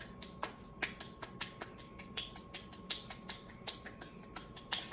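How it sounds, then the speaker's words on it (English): Gentle body percussion of soft claps with floppy wrist wiggles, a quiet series of crisp, light slaps in an uneven but steady rhythm, close and alone. "It's sort of like clapping, but it has wrist wiggles, I guess."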